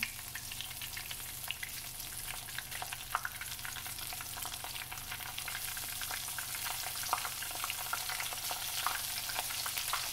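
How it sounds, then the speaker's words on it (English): Small pieces of okra fry in hot oil for Southern fried okra, a steady close sizzle with frequent popping crackles throughout, no voices. "Just going to add a few little pieces of okra at a time."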